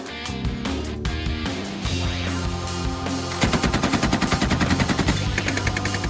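A DShK heavy machine gun fires bursts over a dense, rumbling backdrop, then breaks into a steady run of rapid, loud shots in the last few seconds.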